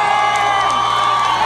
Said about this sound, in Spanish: pedimos un aplauso fuerte